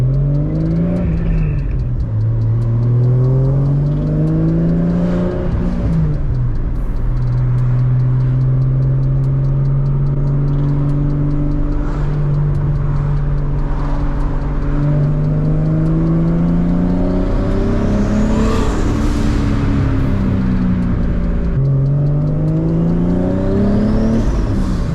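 A car with a swapped-in 2J engine revs continuously and loudly up close, pitch climbing and falling through repeated throttle blips with a steady idle between them, no talking.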